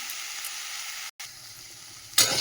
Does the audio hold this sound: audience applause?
no